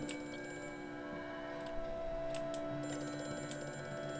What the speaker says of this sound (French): il y a le téléphone qui sonne